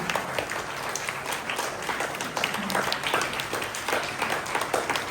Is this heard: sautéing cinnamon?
no